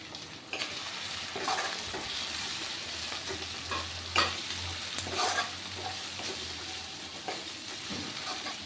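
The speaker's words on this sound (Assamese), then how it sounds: "অকণমান ভাজি লওঁ মছলাখিনি" A steady sizzle of spices and chili powder frying in a hot pan, with occasional scraping stirs of a spoon; no one speaks.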